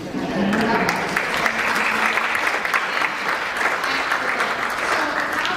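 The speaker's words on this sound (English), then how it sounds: "someone's clapping about that" A full audience at a city council Irish heritage and St. Patrick's Day event breaks into dense, sustained clapping that stays loud and even throughout, with some talk mixed underneath.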